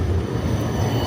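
An Oslo tram pulls in at a busy city stop, a steady low rumble of wheels and motor filling the short stretch with no pauses and no voices.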